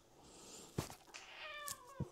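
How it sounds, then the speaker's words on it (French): A domestic cat complains indoors with a few drawn-out, grumbling meows close by, quiet overall with short gaps between calls. "J'ai toujours le chat qui râle"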